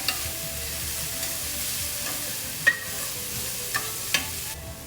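Preserved lemon stirred around a hot pan with the heat just switched off, giving a low steady sizzle with a few sharp scrapes of utensil against the pan.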